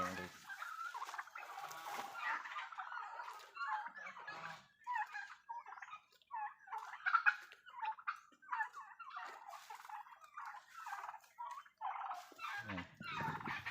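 Turkeys on a farm make repeated gobbling and chattering calls at close range, in bursts broken by short pauses, with other farm birds in the background.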